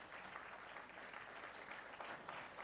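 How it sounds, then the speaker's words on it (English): Audience applause at a convocation ceremony for an MBA in financial services and financial planning, a steady, dense wash of many hands clapping that holds at an even level from start to finish without any speech. "Special applause for Anjali, please."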